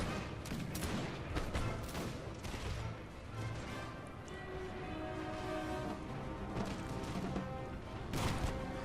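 Musket volleys in the Napoleon Total War video game: repeated crackling bursts of massed gunfire with loud cracks near the start and end, over a continuous battle din.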